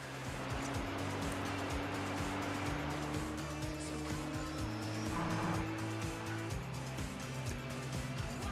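A race car at speed during the Nürburgring 24-hour race, engine droning steadily with gear changes stepping the pitch up and down, heard loud and continuous from within the car.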